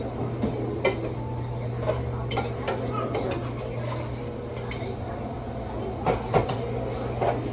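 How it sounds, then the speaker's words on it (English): Ingredients being whisked together in a bowl while cooking pepper steak and rice: light, quick clinks and taps recur throughout, over a steady low hum and faint kitchen background. "So I'm just gonna whisk that together."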